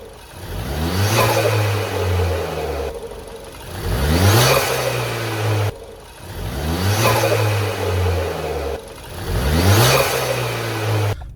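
Ford Fiesta ST engine with a new intake revs hard four times in a steady cycle, each loud rising run followed by a drop back, close up with nobody talking.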